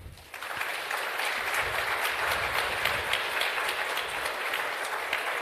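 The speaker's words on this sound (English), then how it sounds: "a round of applause for our panelists." An audience applauds panelists at a shipping association anniversary lecture, a dense, steady wash of many hands clapping that swells in within the first half second and holds evenly to the end.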